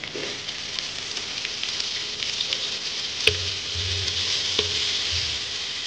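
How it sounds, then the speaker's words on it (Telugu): Crushed onions fry in hot oil in a pot with a steady crackling sizzle, broken by a couple of sharp clinks and a low rumble partway through. "ఇప్పుడు ఉల్లిగడ్డ వేసుకున్నామండి. నేను ఇందులో క్రష్ చేసుకున్నాను ఉల్లిగడ్డను."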